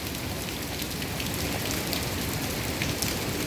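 Steady rain falls on a surface, a dense, even hiss of drops that stays constant throughout with no voices.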